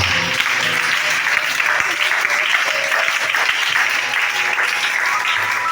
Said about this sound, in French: Acclame Shada.